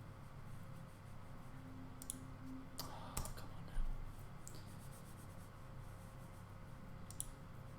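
Light clicking and tapping on a computer keyboard during PC gameplay, a few scattered presses and short bursts, faint and close, with no voices.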